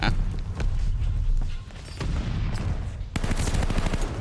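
Rapid gunfire from a DP-27 light machine gun in the shooter game Call of Duty: Vanguard, dense loud bursts running nearly continuously with a brief lull midway, then a sharp renewed burst near the end.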